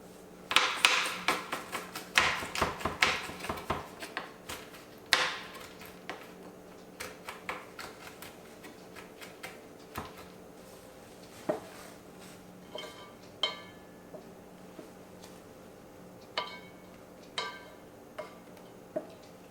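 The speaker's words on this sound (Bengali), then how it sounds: "এই কাজুগুলোকে ছোট ছোট করে একদম এরকম মিহি টুকরো করে নেবো" Cashew nuts being chopped fine with a knife on a board for a rice pudding, a run of quick sharp taps at first, then slower scattered knocks, close and fairly quiet with no talking.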